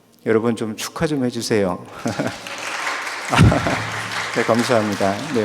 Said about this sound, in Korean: 박수까지는 바라지는 않았는데